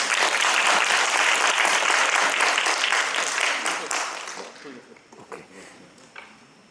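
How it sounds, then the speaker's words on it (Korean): Audience applause welcoming a student team to the stage for a final presentation, a full, close burst of clapping that gradually fades and dies away into scattered claps. "박수로 모시겠습니다."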